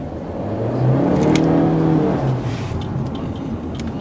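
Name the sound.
Honda Civic engine revving on light throttle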